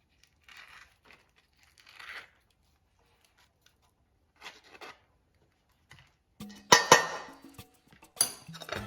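Utensils mixing a quinoa and prawn salad with scooped avocado in a bowl: soft, sparse scrapes and clinks at first, then a louder burst of clattering and rustling toward the end, with no talk.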